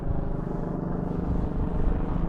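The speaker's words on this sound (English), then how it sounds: "We've got a helicopter." Steady low rotor drone of a helicopter passing overhead at East Midlands Airport, a continuous rumbling roar that holds level throughout with no voices.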